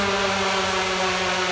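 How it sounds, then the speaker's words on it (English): A thick, buzzy synth drop tone for a techno remix holds steady and loud with no gaps, pitching down, its dense layered harmonics droning throughout. "This is the drop sound."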